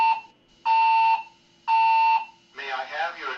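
A building alarm sounds two long, loud, steady electronic tones with a short gap between them, and then a voice begins speaking.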